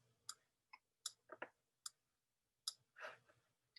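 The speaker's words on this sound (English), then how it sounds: "And I'm clicking and dragging." A computer mouse clicks and drags at a desk, giving a handful of quiet, sharp clicks spaced irregularly, with a few softer scraping rustles between them, close and faint with no talking.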